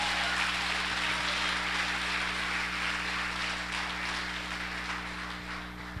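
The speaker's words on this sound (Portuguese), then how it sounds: "Se você crê, aplaude a Ele" A church congregation applauds at a family service, a steady, broad wash of many hands clapping together that holds evenly for several seconds under a faint hum, with no talking.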